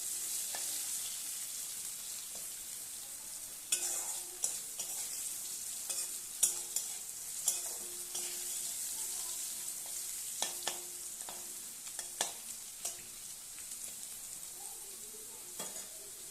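Diced potatoes fry in oil in a pan for ghugni, giving a soft continuous sizzle broken by intermittent clinks and scrapes of a spoon stirring, fairly quiet and with no talking.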